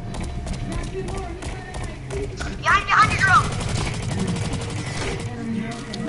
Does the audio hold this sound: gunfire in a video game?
yes